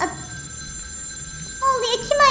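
In the Minecraft video game a telephone rings with a steady electronic tone, with brief speech-like sounds near the end.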